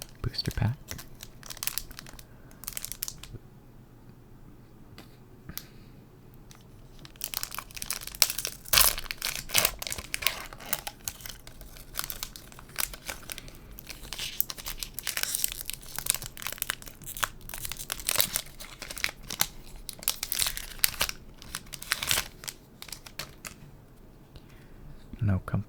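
Foil wrappers of Magic: The Gathering Double Masters draft booster packs crinkle and tear up close, loud irregular rustling bursts that come and go with quieter pauses between them.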